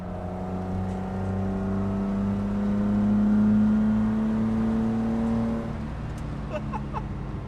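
A Datsun ZG sports car drives steadily through corners, its engine giving a sustained, tonal drone that holds and swells slightly before easing off, with faint clicks and light road noise toward the end.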